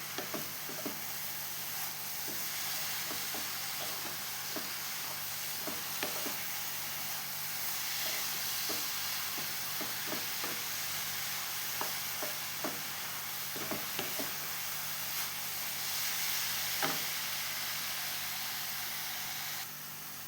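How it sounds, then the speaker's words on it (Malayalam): Flattened rice and banana fry in a pan while being stirred, a steady soft sizzle and hiss with faint repeated scraping strokes of the spoon throughout. "അപ്പം എല്ലാം കൂടി നമുക്കൊന്ന് ഇളക്കി കൊടുക്കാം."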